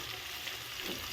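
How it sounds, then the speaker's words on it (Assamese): Onions and green chilies fry in a pan, a dense, steady close sizzle that holds evenly throughout with no talking. "তাৰপিছতে দি দিছোঁ কেঁচা জলকীয়া কেইটাও ভাজি ল'ম।"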